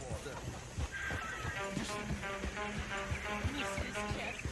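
A horse-drawn coach in the video game Red Dead Redemption 2, with clip-clopping hooves, a whinny and creaking wheels under game music and characters talking.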